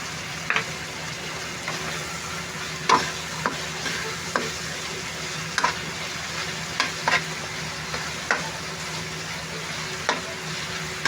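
Chili peppers sautéing in a pan with onion, garlic, ginger and tomato, with a steady sizzle broken by repeated scraping stir strokes about once a second, close and moderately loud with no talking.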